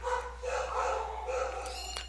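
Dogs bark and yip repeatedly at a moderate distance, over a low steady hum.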